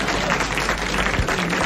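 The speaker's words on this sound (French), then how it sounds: "Vous applaudissez, Monsieur Douteux." A TV studio audience applauds in a dense, steady burst of clapping that fills the short moment without pause, close and even in loudness.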